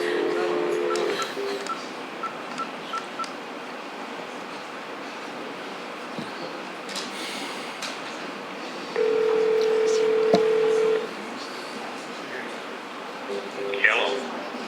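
Telephone tones on a conference call line: short dialing beeps, then a steady tone held for over a second, with faint murmuring voices and line noise in between.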